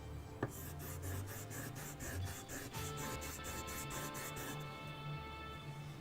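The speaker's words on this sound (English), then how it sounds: "And then I will sharpen both of these chisels, which I just do by drawing them backwards" Chisels drawn backward over a polished leather strop loaded with fine yellow polish, a steady soft rubbing rasp in repeated strokes, close and fairly quiet, with a low hum underneath.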